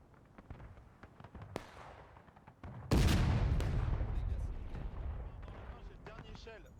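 Scattered musket shots crackle across a large battlefield in War of Rights, distant and irregular, then a loud close volley erupts and rolls off into echoing reports, with occasional voices over the fire.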